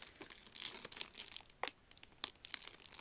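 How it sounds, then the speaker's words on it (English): A resealable plastic bag holding a boxed game release is pulled open with quiet, close crinkling and a few sharper rustling snaps, with no one talking. "I am going to go ahead and open this bag"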